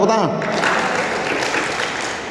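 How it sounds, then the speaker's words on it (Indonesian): Audience applause, a dense patter of many hands, begins as a voice trails off and continues steadily, slowly fading. "tepuk tangan"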